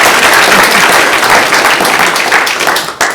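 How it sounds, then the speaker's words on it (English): A conference audience at IGC8 applauds its presenters: loud, dense clapping from many people, close and continuous, fading slightly toward the end. "If we could give a round of applause for all of our great presenters"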